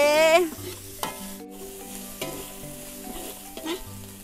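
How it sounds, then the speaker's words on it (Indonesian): Boiled bamboo shoots and aromatics are stir-fried in a pan, with short scraping stirs and light sizzling under steady tonal background music. "Hongkong nih ya masuk, ditumis lagi"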